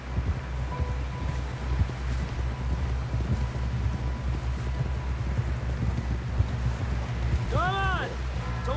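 Horse galloping in Red Dead Redemption 2, a fast continuous clip-clop of hooves with wind and rustling around it, and voices speaking over the ride.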